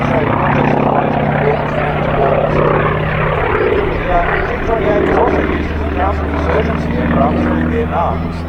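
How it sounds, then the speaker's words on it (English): A T-28 propeller aircraft flies at an air show. A loud, continuous engine drone with a steady tonal hum sits under a public-address commentator's voice throughout. "really having a lot of fun flying this aircraft for you"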